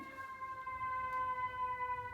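A fire truck siren wails steadily in the background, a sustained high tone with layered harmonics holding over a low rumble for the full stretch.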